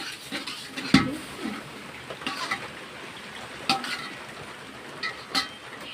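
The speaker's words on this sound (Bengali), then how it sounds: "সবজিগুলো ভাজা হচ্ছে।" Vegetables fry for khichuri in a pan, giving a soft sizzle under scattered clinks and scrapes of a spoon stirring against the metal, with one sharper knock early on.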